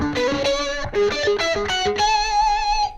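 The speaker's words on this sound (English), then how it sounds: "It has some pedal tone licks in it. It sounds like this." An electric guitar with a distorted tone plays quick pedal-tone licks, fast picked notes returning again and again to a repeated D, ending on a long sustained note with vibrato, loud and close with no voices.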